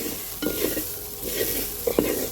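Beef for achar fries in a pan with a soft sizzle, while a spoon stirs it in a few short scraping bursts close by.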